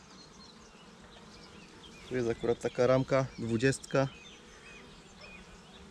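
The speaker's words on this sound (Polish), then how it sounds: "I tutaj widzę, że pszczoły się już wygryzają" Honeybees hum softly and continuously around frames taken from a hive, a faint steady buzz running under a man's brief spoken remark in the middle.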